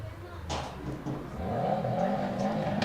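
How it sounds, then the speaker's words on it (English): A car engine revs outside a baseball game, a steady rising drone that grows louder partway through, heard at a distance beneath a commentator's talk. "Someone's revving their engine out there."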